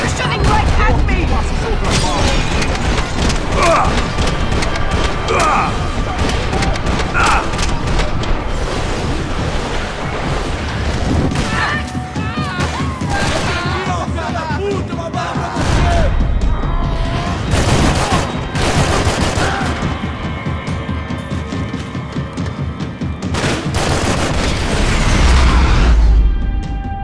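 Video game gunfire in Max Payne 3 on Xbox Series X: loud, dense bursts of shots and booming impacts rolling through the scene, with shouted dialogue over the fighting.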